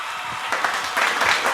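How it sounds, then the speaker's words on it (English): A crowd at a MPWF Bloodlines 2025 wrestling event applauds a wrestler, with dense, steady clapping that swells slightly toward the end. "Round of applause for Dr. Ice Jr."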